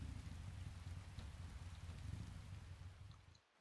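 Faint, steady rain hissing down in Resident Evil 2, with a soft patter on surfaces and a low rumble beneath. It fades out abruptly at the end, and no one speaks.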